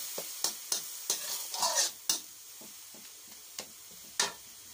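Pork stir-fried in a pan with Mickey sauce, with sharp, irregular scrapes and clacks of a spatula against the pan over a quiet sizzle, close and fairly soft.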